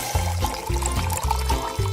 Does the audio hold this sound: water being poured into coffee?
yes